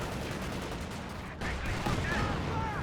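A King Tiger tank cannon fires amid continuous battle noise in the Company of Heroes 2 video game, with a sharp report over dense gunfire and explosions, while a commentator talks over the action.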